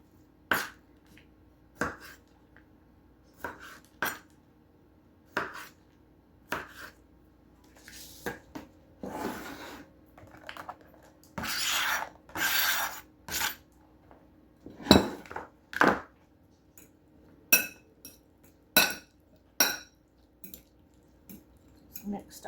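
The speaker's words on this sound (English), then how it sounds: "Okay, so I'm cutting up some cherry tomatoes." Knife cutting cherry tomatoes for a summer salad on a board, sharp taps and clinks of the blade spaced irregularly, with some rustling and squishy handling, close and fairly quiet.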